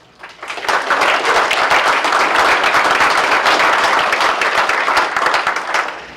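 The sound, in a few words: audience applause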